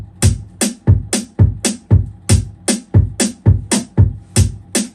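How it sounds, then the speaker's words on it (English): A dance beat with a pack sound layered over kick drum and snare, all three hitting together in a steady, driving four-on-the-floor pattern of loud, punchy repeated strikes with no talking. "Then plus the kick and the snare sound like this."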